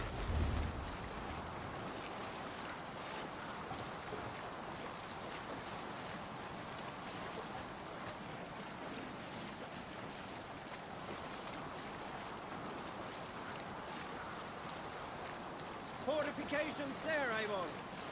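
A sailing ship crossing open water in Assassin's Creed Valhalla, with a steady wash of waves and wind around the hull, constant and moderately loud, with a brief louder splash near the end.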